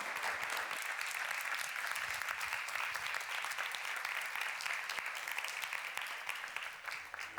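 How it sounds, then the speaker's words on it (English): A conference audience applauds its speakers with sustained, dense clapping that fills the room, then slowly tapers near the end. "Another big warm round of applause for all our speakers."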